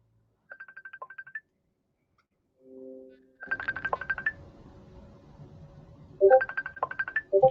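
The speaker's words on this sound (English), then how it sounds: "phone going off here." A mobile phone ringtone goes off nearby: a bright, repeating electronic melody plays in short bursts, separated by a low buzzing tone, and then loops again, loud and clear over a quiet background.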